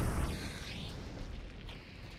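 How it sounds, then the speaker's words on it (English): A bomb explodes in a video game, a low rumbling boom that rolls out and fades into a lingering roar over a couple of seconds, fairly quiet overall. "Oh shit, that's a real bomb."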